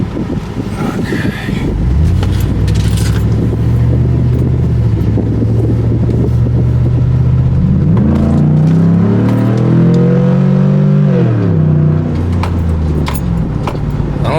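A 2010 Cadillac Escalade fitted with a cold air intake and a muffler delete drives off, its loud engine droning steadily from inside the cabin and rising in pitch as it accelerates, then easing back.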